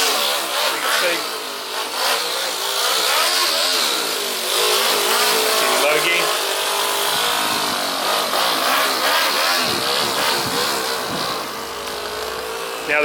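A small four-stroke nitro RC car engine screams at high pitch close by on its first start, its whine rising and falling as it revs repeatedly, with occasional dips and sputters.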